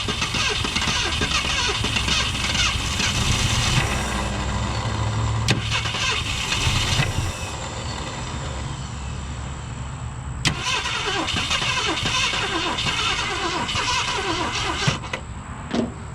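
An old Ford Galaxie engine cranks repeatedly with a strained starter whir at its first start in a long time, catching briefly and sputtering before dying and cranking again, close by with no talking.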